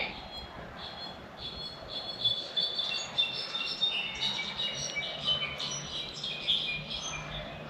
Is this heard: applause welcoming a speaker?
no